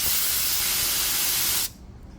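An Alspray siphon solvent spray gun sprays water with a steady, loud hiss for under two seconds and then cuts off abruptly, leaving faint low background noise.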